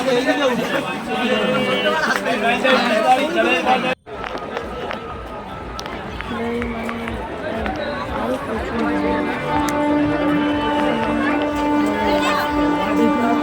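Dense passenger chatter fills a packed train at Balichak platform on a Saraswati Puja holiday, a steady babble of many voices with a brief drop near four seconds, and a nearby voice speaking over the din.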